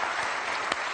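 A TV quiz show studio audience claps in a dense, even burst of applause that runs for about a second, loud and steady with no voices.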